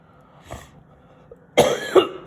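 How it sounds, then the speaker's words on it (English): A person coughs, once faintly and then in two louder, close coughs near the end, with quiet room tone in between. "You have to put up with my cough."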